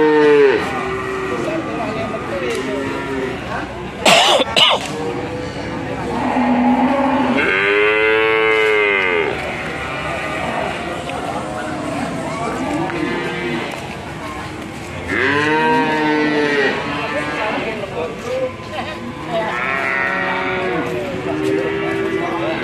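Cattle at a livestock market low again and again, long drawn-out moos rising and falling close by, with several animals calling in turn over a busy, noisy background.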